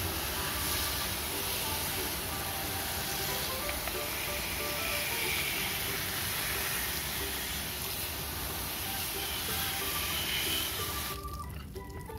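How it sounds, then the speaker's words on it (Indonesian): Water sprayed to wash dirty toy trucks: a steady loud hiss of spray running continuously for about eleven seconds, then cutting off abruptly near the end. "Kita semprot-semprot."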